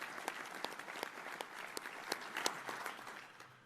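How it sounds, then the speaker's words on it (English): Applause from an audience at the 2019 Burlsworth Trophy ceremony for college football semifinalists, steady scattered clapping heard from a short distance that holds through the clip and slowly fades toward the end. "If you would give a round of applause to our 2019"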